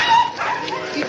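A dog gives short whimpering yips and a bark indoors, brief and close, mixed in with nearby human voices.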